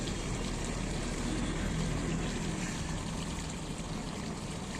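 Water is poured over potted rose plants, a continuous, even rush and splash that stays steady and fairly close for the whole stretch, with no one talking.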